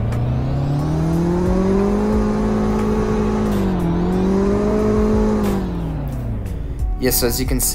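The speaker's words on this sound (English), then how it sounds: "Now, here are the revs." A four-cylinder Ford car engine in the Greenville video game revs up and holds a steady, rising drone, dipping once and easing off before a brief burst of other sounds at the end, with a voice talking over it.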